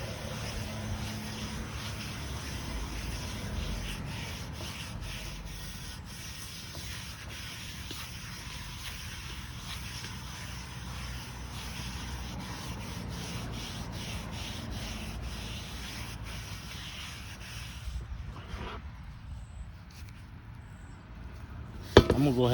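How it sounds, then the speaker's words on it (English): A Lodge cast iron pan is scrubbed to remove rust, giving a steady, continuous low-level rubbing and scouring that runs throughout, with a few faint knocks near the end. "Might as well get some of this rust off"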